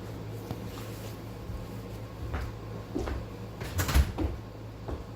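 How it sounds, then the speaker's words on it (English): A door being shut in a house, heard as a few soft knocks and clicks building to a firmer thud near the end over a low steady room hum, with no talking. "Let me go shut the door."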